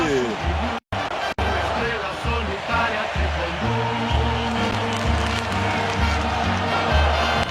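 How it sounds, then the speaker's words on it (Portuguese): Botafogo supporters celebrate winning the 2024 Brazilian championship in a packed stadium, a dense, continuous roar of crowd noise with chanting and cheering that keeps going throughout, broken by two brief gaps. "comemora a torcida botafoguense"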